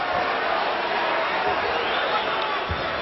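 A basketball arena crowd roars in a sustained, dense wash of voices reacting to a foul during an NBA game, Los Angeles against Denver, with faint thuds and a commentator's speech under the noise.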